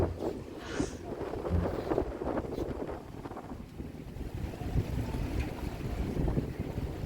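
Strong sea wind buffeting the microphone at a seaside airport in Malé, Maldives, a continuous low rumbling roar with gusty fluctuations and no voices.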